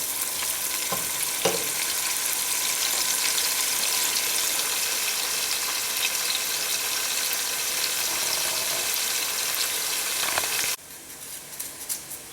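Sliced onions fry in hot oil for beef biryani, a loud, steady bright sizzle with occasional stirring clatter, alone without talk, cutting abruptly quieter near the end.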